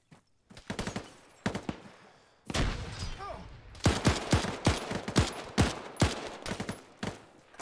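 Gunfire in ArmA 3, bursts of rifle and machine-gun shots cracking in rapid, irregular volleys, some near and loud, others more distant, with brief gaps and a voice faintly in the mix.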